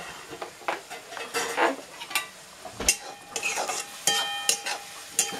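Onion, cumin, mustard seeds and turmeric fry in oil in a pan on a wood-fired stove, with close irregular stirring scrapes and metal clinks over a low sizzle, no talking.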